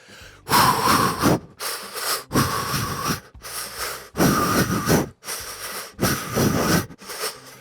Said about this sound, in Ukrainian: Показати, як я бігаю в другій пульсовій зоні, тож на три видих, на два вдих